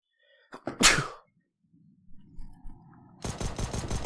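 A single sharp, close sneeze bursts out loudly, followed by quiet breathing and then clattering noise from a CS:GO match.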